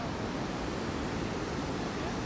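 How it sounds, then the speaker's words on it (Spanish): Rough sea waves pound the shore at Geribá Beach in Búzios, a continuous broadband roar of surf, moderately quiet and steady, with no voices over it. "El mar está bravo."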